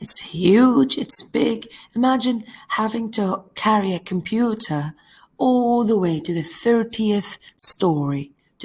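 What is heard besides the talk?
No everyday noises stand out.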